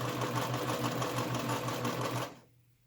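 A sewing machine whirs in a fast, steady run for a little over two seconds, back stitching through fabric for a yarn cake keeper cozy, then stops.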